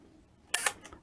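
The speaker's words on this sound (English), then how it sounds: "Cock the shutter, fire the shot" A Fuji GX617 panoramic film camera gives a quick mechanical ratchet as its shutter is cocked, then a crisp close click and whir as it fires, brief and alone in a quiet room.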